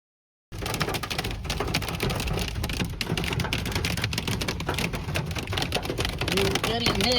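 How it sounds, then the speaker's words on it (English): Hail falling in Rapid City, South Dakota, a dense steady patter and rattle of hailstones striking surfaces nearby, starting abruptly and continuing throughout, with voices talking over it. "we are getting hail in Rapid City, South Dakota"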